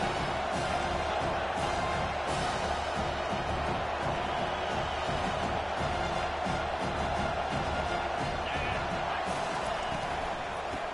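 Football stadium crowd cheering on the defense during a red-zone stand: a steady, loud roar of many voices that continues without a break, with an announcer talking over it.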